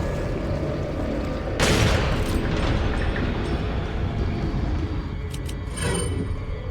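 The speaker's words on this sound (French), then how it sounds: "je lui tire une balle de fusil à pompe dans la tête" A shotgun blast in the survival horror game Resident Evil 4 lands as one loud, broad burst under steady background game noise, then trails off with a smaller echoing crack a few seconds later.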